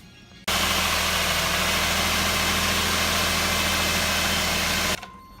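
A 2006 Subaru Tribeca B9 engine, just refilled with fresh coolant, starts abruptly and runs at a steady, loud, close idle hum for several seconds before cutting off.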